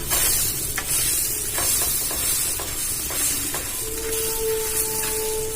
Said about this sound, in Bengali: পাতলা করে দিলে তা ভালো করে ভাজা হয়ে যাবে